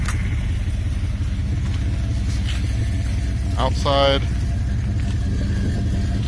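Low, steady engine rumble of an idling 1998 Dodge Ram SS/T pickup truck runs throughout, with someone talking over it.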